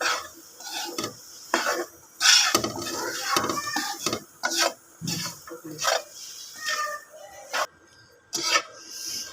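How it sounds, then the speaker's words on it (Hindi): Spices being stirred into a dish of fried matar nimko peas, with irregular dry scraping and rattling strokes of a spoon against the bowl, close and clear, separated by brief pauses. "ये लेंगे और इसको अच्छी तरह से मिक्स कर देंगे"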